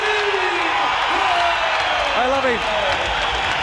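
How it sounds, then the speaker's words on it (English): A dense, roaring crowd fills the Glass House arena in Melbourne at a kickboxing fight between Stan Longinidis and Dennis Alexio, sustained and loud throughout, with cheers, whoops and whistles rising above and a commentator speaking over it. "Listen to the roar at the Glass House"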